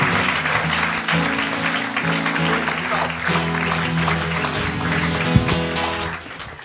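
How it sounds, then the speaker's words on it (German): Loud, enthusiastic applause from a comedy contest audience welcoming a Berlin comedian to the NightWash Talent Awards stage, with upbeat music playing under the clapping and the cheering. "Mit einem riesengroßen Applaus für Josefa Walter."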